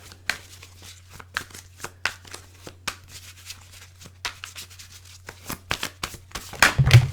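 Tarot cards are riffled and shuffled in quick irregular bursts of crisp flapping and slapping, close by, ending in a louder flurry.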